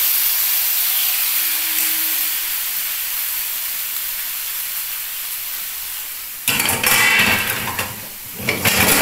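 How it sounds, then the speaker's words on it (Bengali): Cabbage dhoka batter dropped into hot oil in a kadai: a soft steady hiss gives way to a sudden loud, crackling sizzle near the end, close to the pan. "এইবার আমার তেলটা গরম হয়ে গেছে, আমি এর মধ্যে দিয়ে দিলাম"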